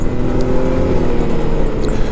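A Can-Am Maverick X3 DS Turbo RR side-by-side driving slowly along a very tight trail gives a steady, close engine drone with low rumble and constant hum throughout.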